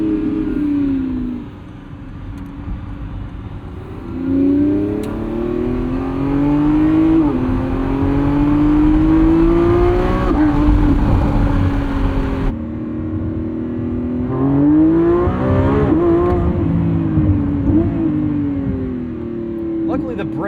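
A 2025 Lamborghini Revuelto's 1,001hp V12 revs and pulls through gears on a night drive, its close, loud engine tone rising and falling in repeated sweeps with a brief cut before climbing again.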